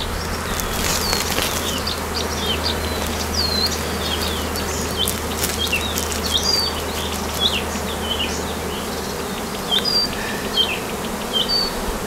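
Buckfast honey bees hum in a loud, dense, continuous buzz at an apiary, with individual bees zipping past close by over a low steady drone, and no voices.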